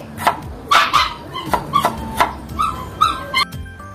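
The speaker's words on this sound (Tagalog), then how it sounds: "Aso?" A dog barks repeatedly in a home kitchen, about eight loud, close barks and yips in an uneven rhythm, with no talking over them.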